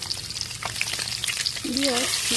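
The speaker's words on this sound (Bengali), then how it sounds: "দেখুন আমার ডিমগুলো কত সুন্দর ভাবে আমি ভেজে নিচ্ছি।" Eggs fry in a pan with a loud, continuous close sizzle and crackle for a couple of seconds, with a brief warbling tone near the end.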